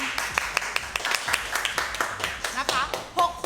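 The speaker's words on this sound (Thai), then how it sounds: "ปรบมือหน่อย" Scattered hand clapping during a live-streamed cooking and fish-sauce sale, a handful of sharp, fairly close claps in an uneven rhythm, with talking and laughter around them.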